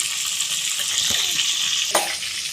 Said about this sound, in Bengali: মিডিয়াম আছে দশ পনেরো মিনিট ভেজে নিতে হবে